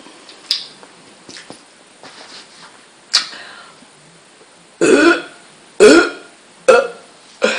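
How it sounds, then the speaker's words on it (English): A person burping solo: three loud, close, drawn-out belches in a row near the end, after a few shorter throaty gulps and clicks over quiet room tone. "See, it makes me burp more."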